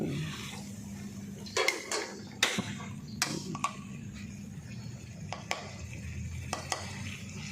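Red curry paste stir-fried in a small pan in a home kitchen, a low steady sizzle beneath several sharp metallic scrapes and clanks of a utensil against the pan.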